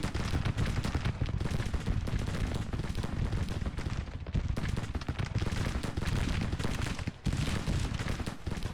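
Civil War infantry open fire in Grand Tactician: The Civil War. Dense, continuous musketry crackles and booms without pause, loud and close, with only a short dip near the end.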